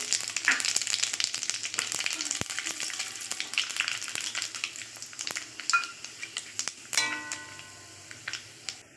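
Panch phoron five-spice seeds and two bay leaves fry in a little white oil, giving a steady close sizzle dotted with sharp ticks and crackles that thin out toward the end, with no voices.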